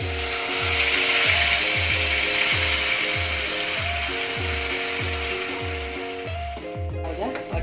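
An onion, tomato, garlic and ginger paste sizzles in hot oil for a restaurant-style besan curry, a steady bright frying hiss running throughout with rhythmic music underneath.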